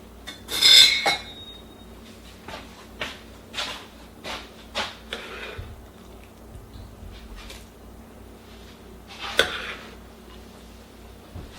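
A big spoon stirs tomato mixture into baked pasta in a dish, with a run of scraping, clinking knocks against the pan at irregular intervals, some louder strokes, and a quieter stretch between.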